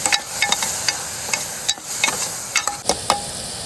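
Masala fries in a pan as it is stirred, a steady sizzle broken by sharp scraping clicks of the spoon against the pan at an uneven rhythm, close and clear, with no voices.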